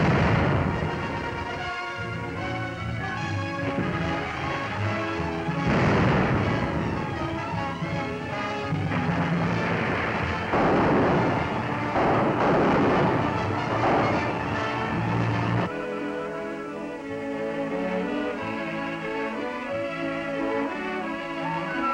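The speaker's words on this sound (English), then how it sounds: "Stand by for depth charge attack." Naval depth charges exploding during a WWII US Navy shipboard attack: continuous heavy, rumbling booms and roaring blasts, loud and dense for most of the span, then easing into a lower rumble.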